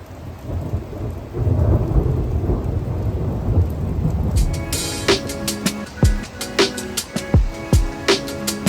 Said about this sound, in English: It started raining pretty good.